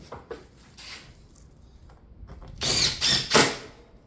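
Fasteners are driven into a pine shake ridge cap on a roof rake, giving a few quiet mechanical whirs followed by three loud, short bursts from a power tool close by.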